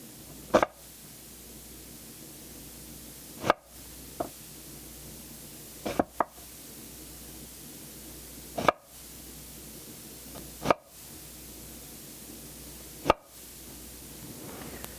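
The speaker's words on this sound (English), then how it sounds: "we're going to take this end and we're just going to make little slices" A knife slices an onion into little slices on a cutting board, giving about eight sharp, close knocks at uneven intervals over a quiet hiss.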